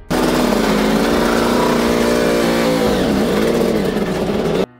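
A 1982 Yamaha YZR500 factory racing motorcycle with a V4 two-stroke engine, running loud and close with a raspy, high-pitched wail that holds steady for nearly five seconds, the pitch dipping and rising once before cutting off abruptly.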